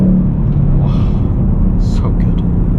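A 2018 Ford Mustang GT V8 gives off a steady, deep engine rumble while cruising at night, the low drone continuous and fairly loud throughout with no sharp revving.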